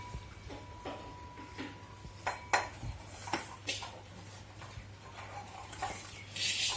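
Green chillies, garlic, cumin, salt and a little coriander pounded finely in the kitchen, giving a run of quiet, irregular hard knocks and clinks over a steady low hum.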